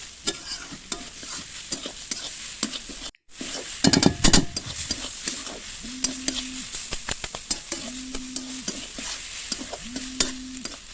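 Masala for veg momo filling frying in a pan while being stirred, with close scraping spoon strokes and clatter over a soft continuous sizzle.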